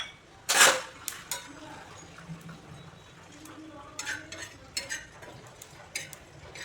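Whole black pepper, cumin, coriander and fennel seeds dry-roasting in a pan for ghee chicken roast, with a sharp rattle as they drop in, then scattered spoon scrapes and soft clinks under quiet talk.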